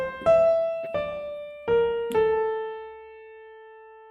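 A keyboard plays part of a theme: four sustained notes in slow succession, each with a clear attack, the last one ringing out and fading, with no talking.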